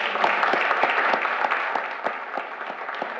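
An audience at a Board of Commissioners regular meeting claps in a steady, fairly close round of applause, with individual sharp claps standing out over a continuous patter for a few seconds.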